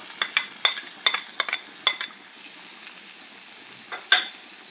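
Finely chopped onion stirred and sautéing in a pan, with a steady close sizzle and a scatter of sharp clicks and scrapes from the spoon, no talking.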